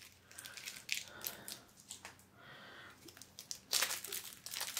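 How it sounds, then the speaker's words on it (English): Plastic wrapping peeled off a deck of board game cards crinkles and tears in short bursts close up, rustling on and off with a louder crackling stretch near the end. "when you take the plastic off the cards"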